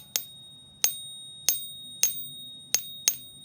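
Six sharp metallic pings of a coin struck with a marker tip, bright and ringing briefly, spaced irregularly about half a second to a second apart.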